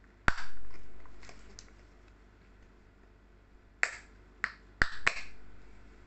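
The plastic seal on a bottle of two-stroke oil is pried open, giving a few sharp, close cracks and snaps spaced irregularly over faint background quiet.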